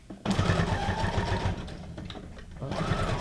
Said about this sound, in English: SQ9185 Brother sewing machine.